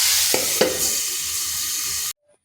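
Potato and spiny gourd frying in a pan give a steady, close sizzle with a couple of light stirring clicks near the start, then the sound cuts off abruptly.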